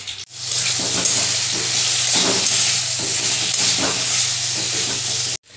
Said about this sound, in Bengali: এবার বেগুনগুলো আগে ভেজে নেবো